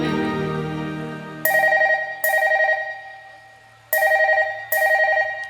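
A phone ringback tone sounds in four evenly spaced bursts over a low hum, with no talking.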